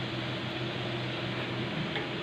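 Small singaras sputtering in hot oil, an unbroken close sizzling hiss at steady volume with no voices.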